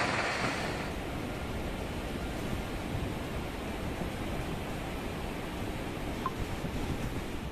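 Swollen Alaknanda river in flood after heavy monsoon rain in Uttarakhand, a loud, steady roar of rushing water with a dense broadband rumble filling the whole stretch without pause.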